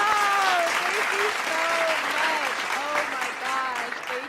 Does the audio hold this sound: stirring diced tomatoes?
no